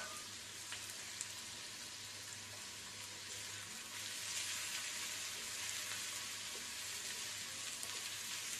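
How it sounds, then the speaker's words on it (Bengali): Shrimp frying in oil in a pan for a pointed gourd peel mash, a faint, steady sizzling hiss that swells slightly in the second half, heard alone without any voices. "এটা আমি তেলে ভেজে নেব।"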